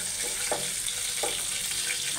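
Tempering sizzling in hot oil with a large chili, cooked alongside fish and jute-leaf dal, a steady close frying hiss with two brief sharp spatters, no voices.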